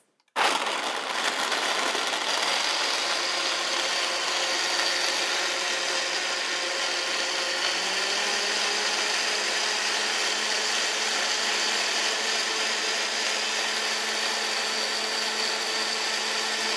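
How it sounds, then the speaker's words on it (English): A countertop blender whirs loudly and continuously, close up, grinding almonds with water into almond milk; the motor pitch settles lower partway through as the mixture smooths out. "So now I'll go ahead and blend this."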